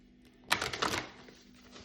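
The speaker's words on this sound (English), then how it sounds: "I'll just get these cards shuffled up again." Tarot cards being shuffled by hand, a quiet close burst of riffling and flicking lasting about half a second, then fading into soft room hiss.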